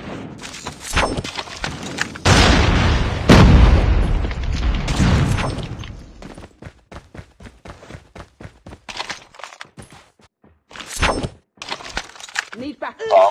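Frag grenade detonates in a Call of Duty Mobile Search and Destroy match, a loud broadband boom around three seconds in amid gunfire, footstep thuds and short announcer callouts, followed by scattered shots and clicks.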